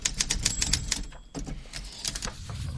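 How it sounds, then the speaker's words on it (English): Typewriter clatter used as a sound effect in a podcast: rapid mechanical key strikes in quick bursts, with a brief pause and a faint bell-like ring, loud and close with no voices. "Luigi, let's get some typewriter"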